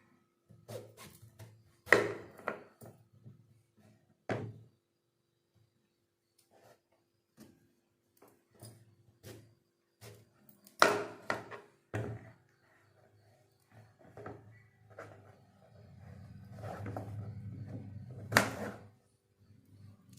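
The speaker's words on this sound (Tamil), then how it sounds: "பெரிய மாங்காய் நம்ம கட் பண்ணிக்கலாம்." A large raw mango being cut with a knife: a few sharp, scattered knocks and thuds spaced by silence, close and fairly loud, with a low rumbling stretch near the end.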